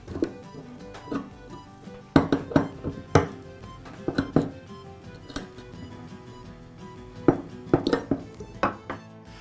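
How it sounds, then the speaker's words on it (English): Metal wrench tightening a threaded safety valve into an air compressor manifold, giving a run of close, irregular metallic clicks and clinks, alone with no voices. "I'll just screw it in and tighten it up with the wrench."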